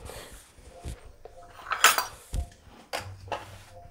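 Dry pickle spices, including amchur, are mixed in a bowl for a winter mooli-gajar and mirch pickle. The mix comes through as close, scattered clinks and scrapes of a spoon against the bowl, with a few louder knocks, and no talking.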